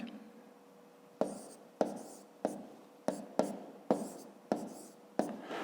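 Pen or pencil strokes on paper while a 25 by 25 multiplication is worked out in a column, heard as a quiet run of short scratchy taps and strokes about every half second, close and alone.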